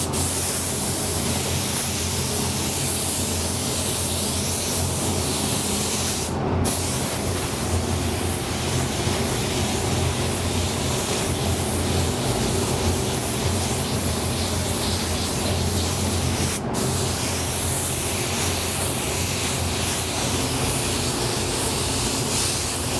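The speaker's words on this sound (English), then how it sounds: "Chris Arpin did a very nice job of spraying the silver on this." Steady, continuous hiss of a spray gun laying down silver aluminum paint as a drop coat on biomechanical sculpted parts, loud and close, unbroken for the whole stretch apart from two very brief gaps, with no talking.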